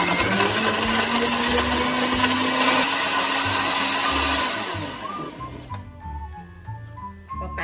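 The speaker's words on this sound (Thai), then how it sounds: "ก็จะปั่นบีทชูทกับน้ำนะคะ" A blender purees beetroot with water into a dye for sago: a loud, steady whirring motor runs close by for several seconds, then winds down and stops.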